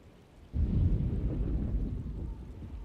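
A thunderstorm in the Alone in the Dark video game breaks into a deep rolling thunder rumble after a quiet half second. The rumble is fairly loud and slowly fades, with a rain-like hiss behind it.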